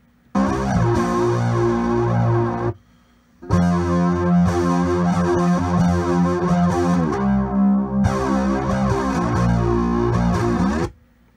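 An instrument signal routed through an Empress ZOIA effects pedal with input wired straight to output, giving a blended, chorused and slightly distorted mix of sustained harmonic tones in two long phrases separated by a brief gap.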